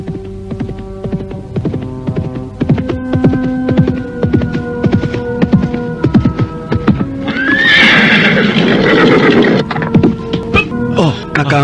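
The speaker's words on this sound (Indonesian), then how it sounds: "dari jauh nampak seorang penunggang kuda menghampirinya" A ridden horse approaches in a period drama set in the Singasari kingdom, with loud neighing and steady clip-clopping hooves over a low hum, the whinny rising sharply partway through.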